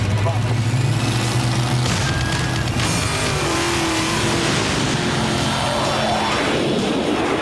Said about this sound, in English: Kenny Bernstein's Budweiser King Top Fuel Dragster.